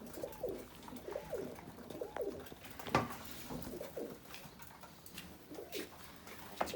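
Pigeons coo repeatedly on a balcony, soft rolling calls recurring every second or so at moderate distance, with a brief louder flutter or knock partway through and a faint background hum.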